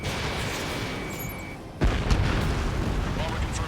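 A bomber blows up in Ace Combat 7, a sudden deep boom bursting through a constant roar of jet engine and game noise, followed by rumbling debris.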